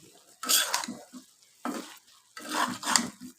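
Mixed vegetables including papaya and pumpkin being stir-fried in a pan, heard as three short bursts of sizzling and scraping with utensil clatter separated by brief quiet gaps.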